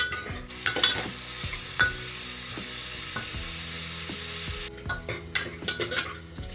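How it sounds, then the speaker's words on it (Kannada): Onions frying in a pan as the base for mutton chops, with a steady sizzle and intermittent clinks and scrapes of a spoon stirring against the pan, no talking. "ಈರುಳ್ಳಿ ಚೆನ್ನಾಗಿ ಫ್ರೈ ಆಗಬೇಕು"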